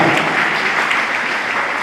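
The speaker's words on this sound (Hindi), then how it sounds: "एक बार तालियों की करतल ध्वनि के साथ अभिनंदन" A short, steady round of audience clapping at a Brahmin community talent award ceremony, fairly loud and evenly sustained with no talk over it.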